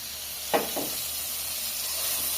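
Potatoes frying in a pan with spices nearby, a steady close sizzle and hiss with a couple of brief louder spits near the start, no talking.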